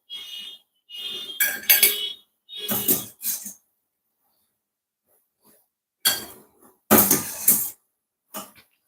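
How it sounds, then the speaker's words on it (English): Kitchen clatter while cauliflower is lifted out of a cooking pot: bursts of utensils scraping and dishes clinking in short separated clusters, close by, with quiet gaps between them and no talking. "So now I'm just going to remove the cauliflower."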